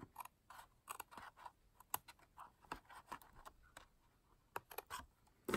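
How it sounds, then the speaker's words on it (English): Scissors trim a paper milk carton craft: a string of short, quiet snips and crisp paper cuts in an uneven rhythm, close up with no talking. "this one I need to trim up a little bit"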